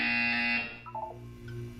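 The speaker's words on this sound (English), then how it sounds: "When you hear the buzzer, look down at the floor." A loud electronic buzzer drones steadily in the Portal 2 video game, then cuts off, leaving a few faint beeping tones over a low hum.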